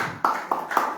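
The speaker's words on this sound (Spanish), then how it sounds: "Un aplauso para Oscar" Brief applause for Oscar, the team's equipment and medical kit carrier, at a gathering marking 41 years since a march from Paso de los Toros to Montevideo: a few short bursts of clapping in quick succession.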